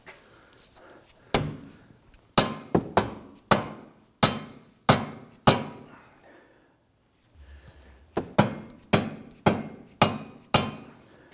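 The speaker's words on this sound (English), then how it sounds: "we're going to manipulate the suspension, jack this, hammer this, work it back and forth" Sharp metallic hammer blows on the rear suspension of a 2003-2014 Volvo XC90 ring out in two bursts, roughly a dozen strikes in all, loud and close, with a brief quiet stretch between the groups.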